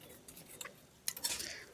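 A spoon scrapes and clinks against a kadai as masala is stirred for kadai paneer made without onion or garlic, with soft, irregular metallic taps and scrapes close by.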